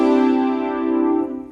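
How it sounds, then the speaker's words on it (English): A brass synth patch on a keyboard plays one sustained chord that is loud and rich, then fades and cuts off abruptly, heard alone. "And then lastly, I have this brass synth, which just sounds like this."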